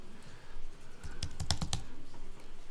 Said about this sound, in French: je mets le curseur et avec les flèches gauche et droite, surtout la flèche droite ici du clavier, je vais au bout du nom